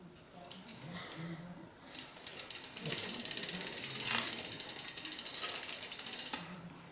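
A Shimano front freewheel ratchets as it is threaded clockwise onto a bicycle crankset, starting with a few scattered clicks and then settling into a fast, steady run of close, crisp pawl clicks, with no talk.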